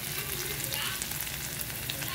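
Masala paste for a bangda fish dish fries and sizzles steadily in a pan, a dense crackling hiss that continues throughout at close range with no talking.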